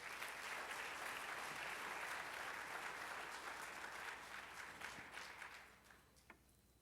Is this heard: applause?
yes